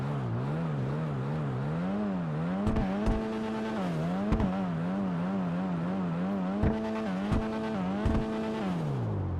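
Annis Savestra car engine in GTA 5 Online, revving up and down in a rhythmic rising and falling drone with several brief sharp transients, loud and up close with no talking.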